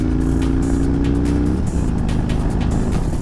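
A motorcycle ridden on an everyday errand run, its engine droning steadily and close with a shift in pitch partway through, as if changing gear, and no talk over it.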